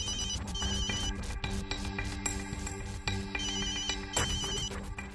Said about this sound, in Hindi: किसका फोन है पुत?